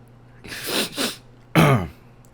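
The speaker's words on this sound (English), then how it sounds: "Sorry, I had to clear my throat real quick" Two throat-clearing noises in quick succession, then a sharper, louder rasp a moment later, close up with nobody speaking.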